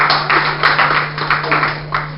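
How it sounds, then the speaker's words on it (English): Small youth talk show audience clapping for themselves, a few scattered, fairly close claps and taps in an irregular rhythm over a steady electrical hum. "Give yourself a round of applause again."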